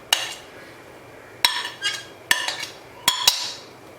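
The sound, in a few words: mixing fruits (apple, mango, banana) into custard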